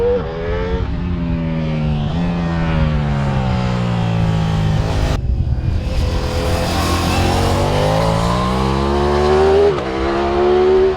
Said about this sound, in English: today I have been focusing on this bike right here, which is the 2023 Ducati Diavel